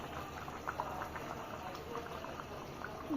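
Curry gravy simmering down in a wok that is a little too small, a steady close bubbling and popping of thick liquid with a soft patter throughout.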